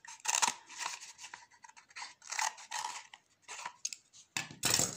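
Scissors cutting recycled paper roll into strips for a pencil holder craft: a close, quiet series of crisp snips and slicing rasps in irregular bursts, separated by short pauses.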